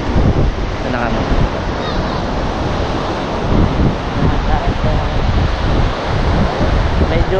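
Waves breaking and strong wind at Casapsapan Beach in Casiguran, Aurora, a steady loud roar of surf mixed with buffeting wind on the microphone, with no pause throughout.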